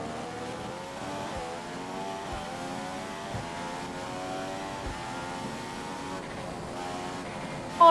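An F1 2015 racing game car holds a continuous, buzzing engine note at high revs, with brief dips at regular gear shifts, loud and near for the whole stretch without any talking.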